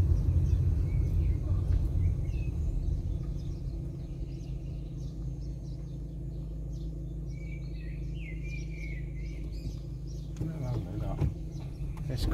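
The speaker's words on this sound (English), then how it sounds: "Listen to the birds." Faint birdsong chirps high above a steady low rumble of wind or traffic, with brief louder noise near the end, in a village street in Cyprus's Troodos Mountains.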